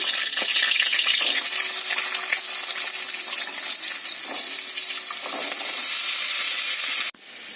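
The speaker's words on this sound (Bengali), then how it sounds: "এখানে যে আলুগুলো কেটে নিয়েছি আলুগুলো ভেজে নেব।" Cut potato pieces fry loudly in hot oil with whole spices such as cloves, a steady dense sizzle with occasional stirring scrapes, close and continuous until an abrupt drop near the end; no one speaks.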